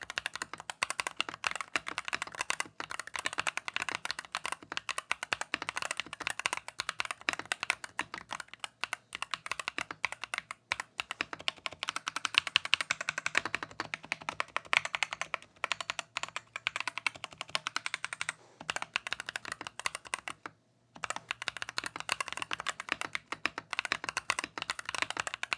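Fast, continuous typing on a Corsair K65 Plus mechanical keyboard with an aluminum knob: dense, close-up key clacks in an unbroken stream, with one brief pause near the end.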